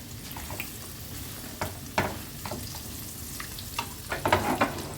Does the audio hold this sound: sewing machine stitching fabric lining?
no